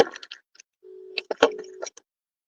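A telephone call failing to connect gives a low, steady busy-style tone lasting about a second, broken up by short clicks and scraps of other sound, with a brief faint burst before it.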